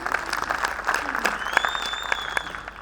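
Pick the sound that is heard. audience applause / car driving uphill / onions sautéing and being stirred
audience applause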